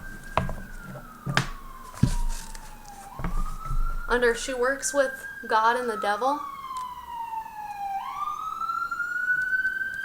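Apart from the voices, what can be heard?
sirens passing outside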